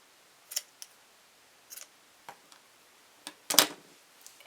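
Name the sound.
scissors trimming yarn pom-pom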